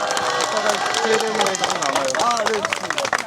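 Crowd applause at an outdoor memorial rally for labor martyr Kim Tae-wan's second anniversary: dense, steady clapping from many hands throughout, with voices talking and calling over it.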